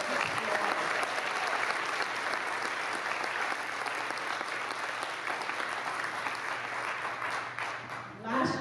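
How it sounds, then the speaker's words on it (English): Sustained applause from a large crowd at a school district convocation fills the room for several seconds, steady and loud before tapering off at the end. "Let's give those two a round of applause."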